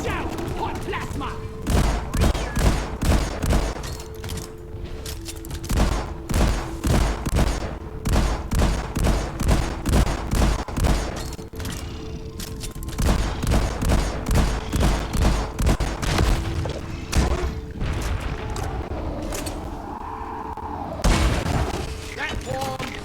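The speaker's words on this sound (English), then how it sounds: "Saturation bombing." Dense rapid gunfire and booming explosions in the video game Deep Rock Galactic during a chaotic firefight, with rhythmic bursts of weapon fire and heavy blasts throughout, loud and close, with voices talking over it.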